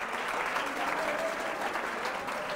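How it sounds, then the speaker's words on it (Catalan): A studio audience at a Catalan TV spelling quiz gives steady, dense applause that holds at an even level throughout, with no other sounds over it. "Aplaudiment per això, per ella."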